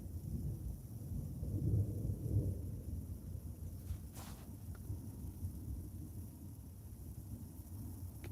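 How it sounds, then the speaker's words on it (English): Thunder from an approaching thunderstorm in Burgundy, France: a low, distant rumble swells and fades early on, then faint ambient wind and noise follow, with no talking. "Thunder is getting closer now."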